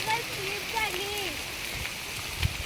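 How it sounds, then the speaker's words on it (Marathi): Heavy, slanting rain pours down as a steady broadband wash, with a voice speaking over it in the first second and a sharp knock near the end. "हे कसला पाऊस आहे बाबा"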